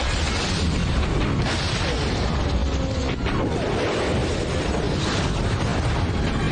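A car blowing up in an action movie: a loud, sustained rumbling blast fills the whole span, dense and roaring, with debris-like crackle throughout and no quiet gaps.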